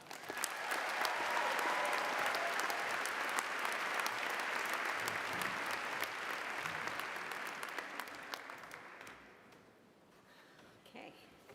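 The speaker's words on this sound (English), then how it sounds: "I want you to applaud loudly so I can look good" Loud, sustained applause from a convocation audience welcoming the provost, dense clapping holding steady for several seconds before thinning out and fading toward the end.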